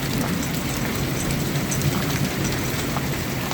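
Hail pellets pelt the ground and nearby surfaces in a dense, steady hiss during a heavy April hailstorm, a continuous close patter with wind and no pauses.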